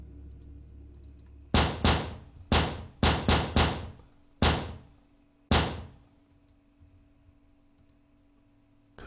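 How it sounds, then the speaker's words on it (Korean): Seven loud, hard knocks pound on a front door at night, coming in an irregular burst of quick blows with short pauses and then a final late thump, all close and without any voices. "사정없이 문을 두드렸다"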